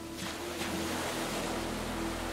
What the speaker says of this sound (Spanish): escuchar el ruido de las olas que vienen y van